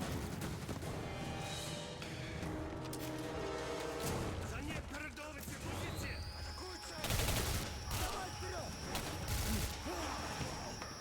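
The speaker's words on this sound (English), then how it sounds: "I do love a minigun" Rapid minigun fire in the video game Singularity, dense continuous bursts with loud impacts and explosions, a voice talking over parts of the gunfire.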